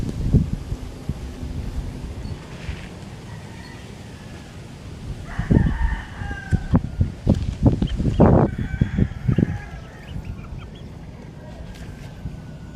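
Roosters crowing and chickens clucking around galvanized pens in a small backyard chicken coop, a few loud crows and bursts of clucking close by amid wind and scattered rustling.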